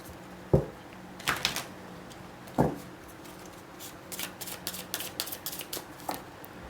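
Tarot cards handled and shuffled, a few sharp slaps followed by a quick run of soft riffling flutters, faint and close with no speech.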